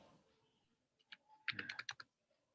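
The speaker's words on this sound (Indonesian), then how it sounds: "Kita harus ngetik lama ini." A short burst of keyboard typing, a handful of quick key clicks close by in a quiet room, ending abruptly.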